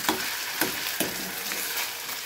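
Diced potato sizzling and frying in a pan with cloves, a steady hiss punctuated by a few sharp stir or spatter crackles.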